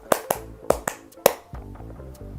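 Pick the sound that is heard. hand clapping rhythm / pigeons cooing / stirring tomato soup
hand clapping rhythm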